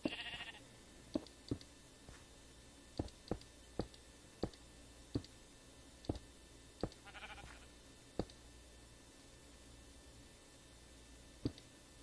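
Minecraft sheep bleat in short bursts amid a steady run of sharp game clicks, the bleats faint and brief against a quiet in-game background with no talking.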